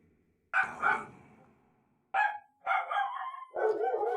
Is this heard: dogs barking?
yes